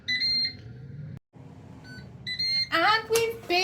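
A Ninja Dual air fryer gives a series of bright electronic beeps in short bursts, close and clear, with a voice talking in between.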